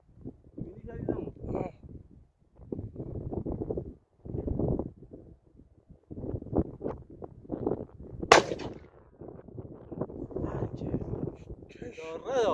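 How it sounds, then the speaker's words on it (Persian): A single sharp slug blast from the right barrel of an Iranian-made side-by-side double-barrel 16-gauge shotgun cracks out loud and sudden, in the middle of steady outdoor talking that runs throughout. "تک لوله 16 و با لوله سمت راست شلیک میکنی ببینیم"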